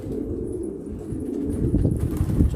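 Domestic pigeons and doves cooing at a coop, steady low murmuring coos that build toward the end alongside some shuffling.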